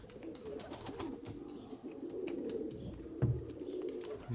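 Pigeons cooing steadily nearby, low rolling calls with faint wingbeats and rustling as a male pigeon lands, fairly quiet and without voices.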